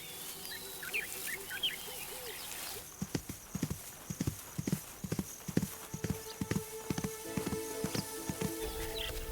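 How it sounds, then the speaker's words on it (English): Hard, sharp zebra hooves thud and clatter in a quick irregular run of clip-clop strikes, fairly close, over a wild outdoor background with birdsong early on and a whinny-like call. "A kick from the hard, sharp hooves of a zebra can be fatal."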